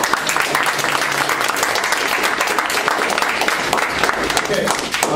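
Audience applause at a debate competition, a steady crackle of many hands clapping throughout, with voices and crowd murmur mixed in over it.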